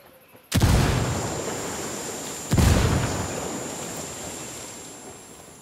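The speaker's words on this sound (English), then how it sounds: "Lobbing a flashbang. Throwing a flashbang. Grenade, get to cover." Two heavy explosions from grenades and flashbangs in the video game Tom Clancy's Ghost Recon during PvP play, each a sudden loud boom followed by a long rumbling decay, about two seconds apart.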